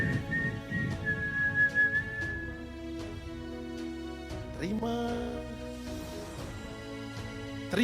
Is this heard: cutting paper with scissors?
no